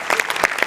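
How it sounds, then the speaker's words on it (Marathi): An audience at a live Marathi comedy show breaks into brief, loud applause for a writer, with sharp clapping close by. "याच्यात तुझ्या लेखकासाठी जोरदार टाळ्या एकदा."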